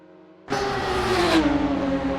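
A Radical SR3 race car's engine in the Assetto Corsa racing game at Mosport bursts in loud and close after a quiet lead-in, holding a high, steady whine that climbs slightly before settling, with no talk.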